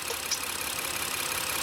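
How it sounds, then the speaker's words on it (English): Engine of a 2016 Honda Pilot with a Bank 2 air-fuel ratio imbalance fault idling steadily, a faint continuous hum with a light even texture and no voices. "I'll turn off the engine"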